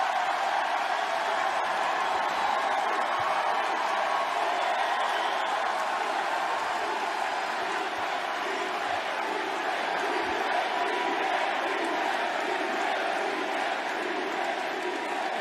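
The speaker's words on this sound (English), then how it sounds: "Crowd loves it." A large arena crowd of pro wrestling fans roars and cheers for openly gay wrestler Anthony Bowens during Pride Month, a dense, sustained wall of cheering and shouting that stays loud without a break.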